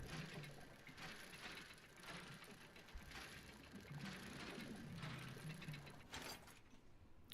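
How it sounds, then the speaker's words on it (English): A dredging mechanism cranks in a video game, a faint, continuous mechanical ratcheting and gear rattle that keeps up its rhythmic clatter for several seconds without any talk. "We can still keep dredging."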